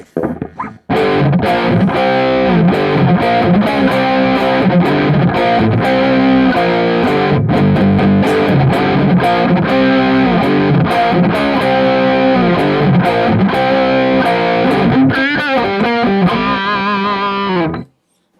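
Crunchy overdriven electric guitar through a British crunch amp model on a multi-effects unit plays a continuous riff of chords and single notes, loud and upfront, ending with a few ringing notes before stopping abruptly.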